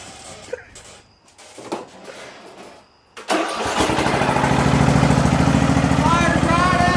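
An old homemade lawn mower engine cranks and catches, then settles into a loud, steady running chatter that keeps building after a few seconds of quieter fumbling and handling noise.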